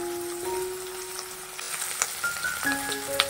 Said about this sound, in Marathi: शिमला मिरची घालायची, ही चांगली परतून घ्यायची।